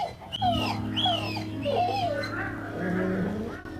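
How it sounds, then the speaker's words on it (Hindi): A dog in a taxi gives a string of high, wavering whines and yelps, close and fairly loud over a low steady engine hum. "आपके पास कुत्ता है जिसकी आवाज़ सुन सकते हैं"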